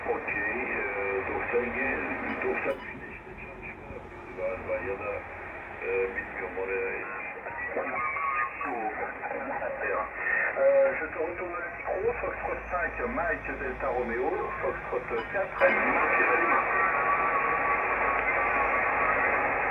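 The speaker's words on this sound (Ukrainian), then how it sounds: "Рівень сигналу ніби збільшився, але збільшились і шуми." Shortwave radio receiver on a wire antenna, giving a steady band-limited hiss and crackle with wavering tones and faint fluctuating signal, continuous throughout and rising slightly in level near the end.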